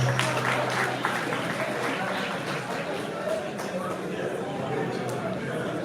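Audience at a peace and national cohesion town hall meeting in a hotel conference room clapping together, a dense continuous patter of hands with crowd murmur and voices mixed in.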